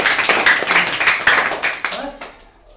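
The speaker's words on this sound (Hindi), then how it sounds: "ताली दीजिए इनके लिए।" Students in a classroom give a short burst of hand clapping after a correct answer, a quick run of sharp, close claps lasting a couple of seconds before trailing off, with a voice briefly heard near the end.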